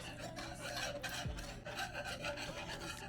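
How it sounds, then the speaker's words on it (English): A whisk stirs milk into a cheese sauce, a bechamel-style base, in a pan, making a steady rasping, scraping rhythm that runs close and continuous throughout. "I'm going to go ahead and put all the milk in at one time. And then I'm going to whisk."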